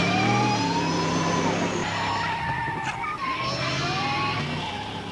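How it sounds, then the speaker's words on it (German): A DeLorean in a Back to the Future video game pulls away with a loud engine whine and rising tire screech, sliding pitch sweeps fading as it leaves, over a game music bed. "Und da fährt der DeLorean davon."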